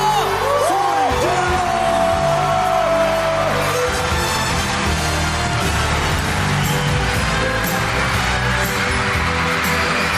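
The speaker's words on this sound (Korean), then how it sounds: "여러분 박수로 환영해 주세요." A Korean concert crowd whoops, cheers and claps as a singer is welcomed, a loud sustained roar of voices with rising yells early on and continuous noise throughout.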